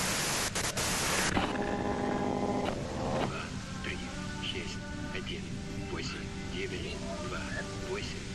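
Broadband white-noise static from the Disco Elysium video game, loud and steady at first, then settling into a lower hiss with faint tonal chimes and ambient tones over it.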